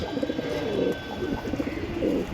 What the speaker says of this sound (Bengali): দর্শক ভাই এখানে দেখতেছেন একজোড়া দামাসিন কবুতর